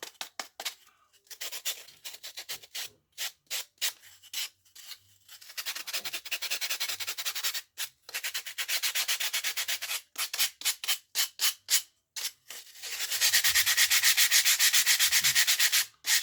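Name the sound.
sanding wooden jaw harp case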